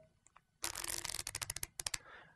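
After a moment of quiet, a deck of playing cards is riffled in a fast burst, then a rapid series of distinct card snaps, close and crisp.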